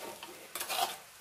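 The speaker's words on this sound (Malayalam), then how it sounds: "ഇത് ഇടയ്ക്കിടയ്ക്ക് എല്ലാം ഇളക്കി കൊടുക്കണം" Ivy gourd thoran is stirred in a covered pan, giving a faint, brief scrape and soft sizzle with a louder burst of stirring toward the middle.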